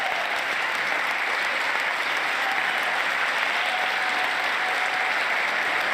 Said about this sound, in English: CEO of Intel, this much applause?